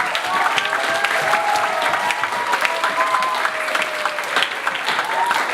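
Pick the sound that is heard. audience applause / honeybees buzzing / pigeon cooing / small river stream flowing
audience applause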